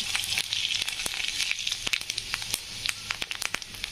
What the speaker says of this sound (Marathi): मोहरी टाकल्यानंतर जिरे टाकून घेऊ